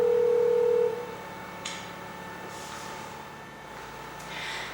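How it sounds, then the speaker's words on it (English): A ZKR Versatile Plus nurse call control panel sounds a steady call tone lasting about a second, then cuts off to a quiet room with a few faint clicks. "We can make direct phone calls to the connected rooms from here."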